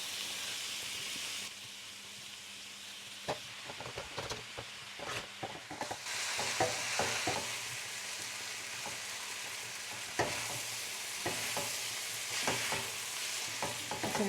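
Spaghetti noodles being stir-fried for chicken chow mein in a hot pan, a steady sizzle with repeated scraping and tossing clatters, close and loud with no talking.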